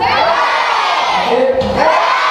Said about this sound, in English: give 3 big cheers to the cast and staff from St Peter's